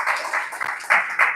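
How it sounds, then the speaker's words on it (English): Audience clapping for OQATA Wellness Solutions during a live wellness talk, a short burst of steady applause of moderate loudness, with a few louder swells of clapping. "Clap for OQATA Wellness Solutions."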